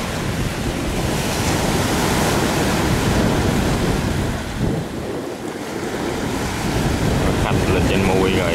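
Heavy sea surf and strong wind batter a long iron boat as it heads out into open water, a continuous loud roar of waves and wind noise buffeting the microphone throughout.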